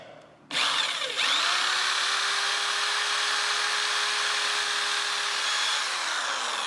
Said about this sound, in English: I got to drill a couple of pilot holes for these screws